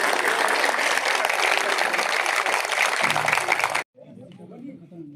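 Audience at a North Zone stage program bursts into loud, dense applause for nearly four seconds; the clapping cuts off abruptly and quieter talking follows.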